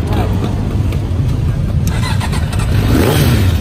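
A motorcycle with a sports exhaust revs loudly and close at the Distinguished Gentleman's Ride 2019 start in Plaza Gipuzkoa, a rough throaty burble rising in pitch toward the end, with people talking over it.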